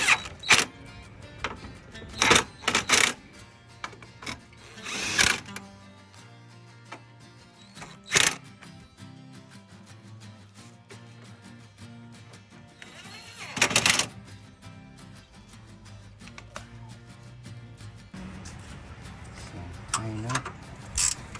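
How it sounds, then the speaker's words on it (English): Ratchet tightening engine bolts on a 2009-2015 Toyota Venza V6 during alternator replacement: bursts of sharp metallic clicking, close and fairly loud, recurring in clusters separated by quieter stretches of low workshop hum. "Now we're just gonna tighten up all the bolts."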